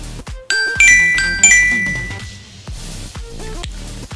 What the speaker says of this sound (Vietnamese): Là cái chuông của mình á ở dưới, phía dưới nó có rồi nha, hoạt động bình thường ha.